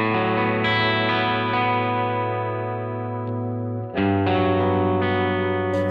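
Electric guitar run through a boost pedal dialed for added low mids, sustained chords ringing loud and thick, one re-struck near the end, played alone without talk.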